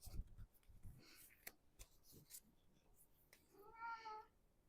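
A pet cat meows close by near the end, one drawn-out, clear meow after quiet rustling and soft scattered clicks, all at low volume.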